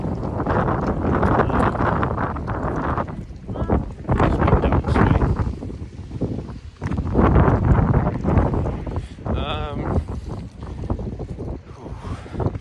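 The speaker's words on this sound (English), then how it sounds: "still fairly windy" Strong wind buffets the microphone on an outdoor walk, a continuous rough, loud rumble with gusts rising and falling throughout.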